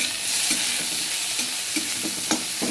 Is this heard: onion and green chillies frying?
yes